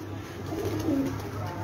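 Domestic pigeons cooing on a rooftop loft, a low soft throaty call close by over steady background hiss.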